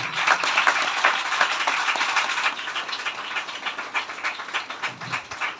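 A congregation at a prayer service claps loudly and continuously, a dense, fast wash of many hands that stays steady and eases slightly toward the end, with no talk over it.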